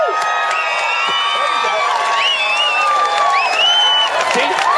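Studio audience cheering, whooping and hollering together, loud and sustained with overlapping high shouts throughout.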